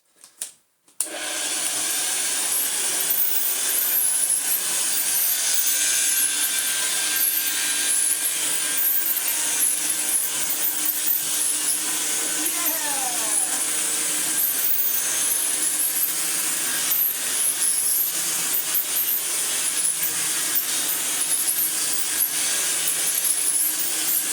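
A Hoover Senior 652a vacuum cleaner motor runs steadily after a brief start-up, a loud continuous whine and rush with faint rattles and no talking.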